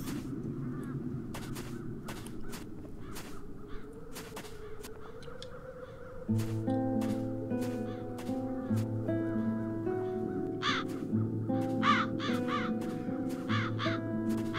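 Crows caw repeatedly in the fantasy game Das Schwarze Auge: Satinavs Ketten, a series of harsh calls, several overlapping, over a low musical background that swells partway through.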